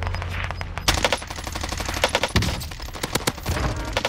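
Rapid automatic gunfire in Call of Duty on Rebirth Island, with repeated sharp bursts and single cracks stacking up close and loud over a few seconds of continuous combat noise.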